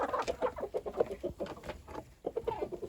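Several hens cluck nearby in quick, overlapping bursts while eating, a busy and fairly loud chorus with a short lull partway through.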